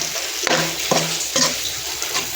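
Besan (gram flour) stirred and roasted in hot oil, a soft continuous sizzle broken by three spaced scraping strokes of a spoon against the pan, close and alone without speech.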